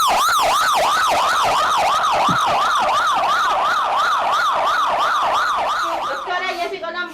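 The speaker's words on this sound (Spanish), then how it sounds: "ya llegó la ambulancia" An ambulance siren wails loud and close in a rapid, steady up-and-down cycle, holding strong before it breaks off into other noise at the end, with no voices over it.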